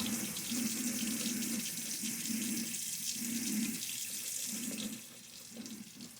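Tap water runs steadily onto a shaving brush loaded with lather concentrate, a continuous close splashing hiss that eases slightly near the end.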